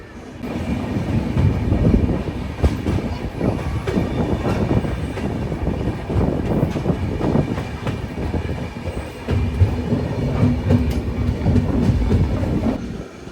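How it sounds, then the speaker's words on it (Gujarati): The Yoga Nagari Rishikesh Express, running from Rishikesh to Ahmedabad, rolls along the rails with a continuous loud rumble. Wheels clatter rhythmically and squeal faintly for the whole stretch. "ઋષિકેશથી અમદાવાદ જતી આ યોગનગરી ઋષિકેશ એક્સપ્રેસ"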